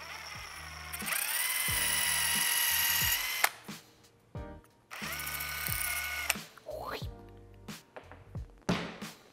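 A Festool drill drives a pencil sharpener, sharpening a pencil: two sustained whirring, grinding bursts of a few seconds each, loud and close, separated by quieter clicks and handling noises, with some talking.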